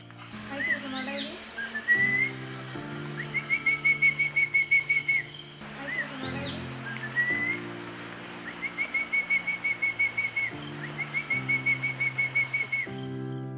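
A man in Kerala whistles to call birds down to washed paddy grain set out for them: a series of bright, sustained whistled notes in short repeated bursts, fairly close, over a steady background with a low droning hum.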